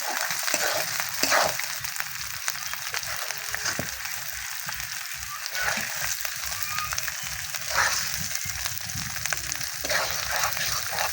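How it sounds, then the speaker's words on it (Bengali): Spices frying in a pan for a duck curry with new potatoes, a steady loud sizzle with intermittent stirring scrapes throughout, no talk. "এভাবে কিছু সময় মশলা ভেজে নিতে হবে।"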